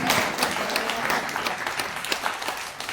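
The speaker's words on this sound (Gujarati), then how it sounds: "જોરદાર તાળીઓથી વધાવી લઈએ" Audience applause at a college staff association silver jubilee ceremony in Nadiad, a dense steady round of clapping from a large crowd, sustained and moderately loud with little talk.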